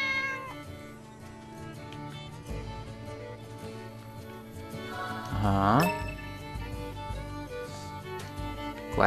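A cat character in the video game The Good Life lets out a clear, drawn-out meow partway through, over continuous melodic game music.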